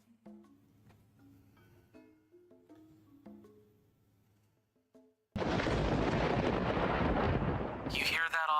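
Loud rumbling roar bursts in suddenly after a stretch of quiet tonal music, holding steady like a close thunderclap or storm blast, with a rising swoosh near the end.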